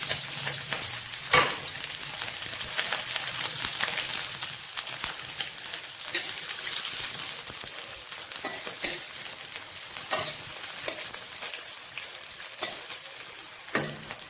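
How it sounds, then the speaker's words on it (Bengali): Onions frying in hot oil, a steady dense sizzle crackling close by for the whole stretch, with occasional sharper pops and stirring clinks and no talking. "তো তেলটা পুরো গরম হয়ে যাওয়ার পর পেঁয়াজগুলো দিয়ে দেবো, লাল লাল করে ভেজে।"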